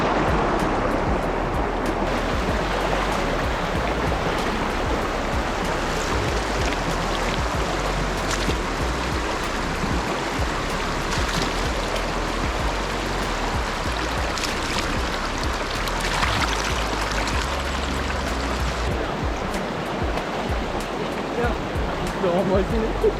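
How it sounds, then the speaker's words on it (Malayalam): A small stream in rainy Wayanad keeps up a dense, steady rush of flowing water, close and constant for the whole stretch with faint rain alongside. "ചെറിയ അരുവി"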